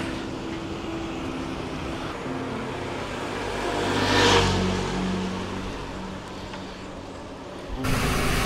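Road traffic with a car accelerating past, a steady distant rumble that swells to a closer whoosh midway and fades, then a sudden louder burst near the end.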